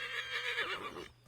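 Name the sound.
horse whinny in video game Assassin's Creed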